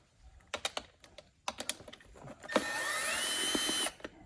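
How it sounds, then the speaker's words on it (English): A cordless drill fitted with a T25 bit backs screws out of the front air dam of a Mercedes E63S AMG: scattered clicks and short taps, then one sustained whirring spin of about a second and a half, close and clear. "Actually just going to use my drill with a T25 bit."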